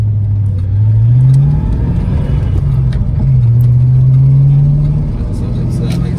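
A 1988 Ford Mustang LX 5.0 notchback's V8 drones steadily from inside the cabin while driving, its pitch rising and easing under continuous conversation between occupants.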